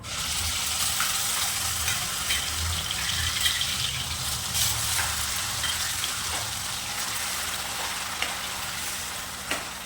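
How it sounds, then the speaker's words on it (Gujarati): Onion paste dropped into hot oil seasoned with asafoetida in a pan while making pav bhaji, giving a steady, loud, continuous sizzle and fry that holds evenly throughout with no talking. "તેમાં આપણે ડુંગળીની જે પેસ્ટ બનાવી હતી તે નાખી દઈશું."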